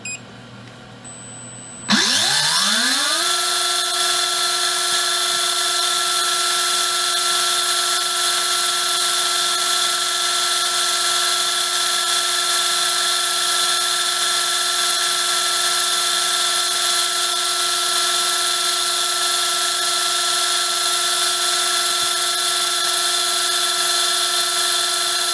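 After a brief quiet start, a Tekin Elite 17.5t Gen4-R2 brushless RC motor spins up to maximum RPM and holds a loud, steady, high-pitched whine for about twenty seconds without pause.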